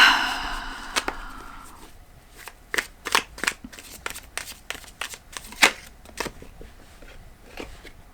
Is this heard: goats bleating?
no